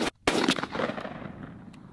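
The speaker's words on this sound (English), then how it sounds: "We're going to shoot number 4s, 40 yards, Winchester XRs." A single shotgun blast from a Winchester Longbeard XR number 4 turkey load, fired outdoors at a target 40 yards away; one sharp, loud report is followed by a fading echo, and no one talks.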